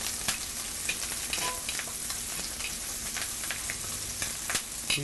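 Steady sizzling from a frying pan of pork, with small scattered pops and crackles of thyme spattering in hot fat, close and continuous, no talking.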